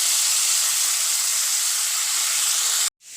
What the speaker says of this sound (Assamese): এতিয়া ফুলকবিকিটা মই ভালকৈ ভাজি লম